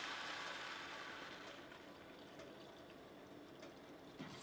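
Water pours into a pot of red lentils, a quiet gushing fill that is strongest at the start and then settles to a softer trickle.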